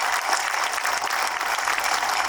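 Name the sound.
audience applause for community members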